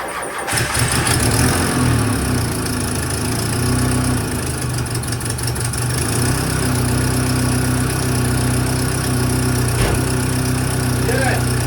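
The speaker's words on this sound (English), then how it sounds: "we are gonna go ahead and try to crank this and see if there's any results" A project car's engine cranks and catches near the microphone, the starter whirring briefly before a steady rough idle continues throughout, with no talk over it.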